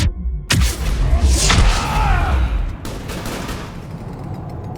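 Gunfire in Mass Effect 3 crackles in a dense burst of rapid shots after a sudden thump, close and loud at first, then rattles on more faintly in the distance.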